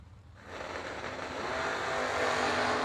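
Drag racing cars, including a '55 Chevy, launch at a Christmas bash event. A sudden loud engine roar kicks in after a short quiet start and builds steadily as they accelerate away.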